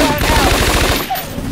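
Rapid automatic gunfire from the video game Scarface: The World Is Yours rattles loudly and continuously for over a second before cutting off.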